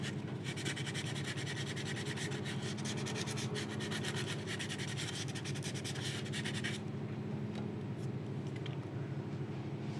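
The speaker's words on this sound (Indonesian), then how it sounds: "Ini kita amplas sedikit agar jauh lebih rapi." Steady back-and-forth rasping of sandpaper rubbing by hand on a wooden part for a homemade PCB holder clamp, continuous and close, stopping near the end, with a low hum underneath.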